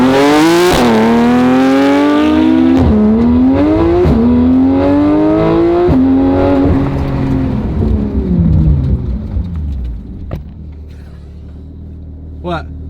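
A rented Porsche GT3 RS accelerates hard, its loud engine climbing through several quick upshifts, then easing off as the roar fades. Excited voices can be heard over it.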